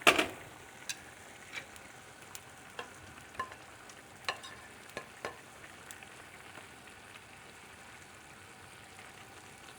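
Chicken and sausage simmer in a pan for chicken scarpariello, a soft steady sizzle with scattered pops and light spatters throughout, close and fairly quiet with no talking.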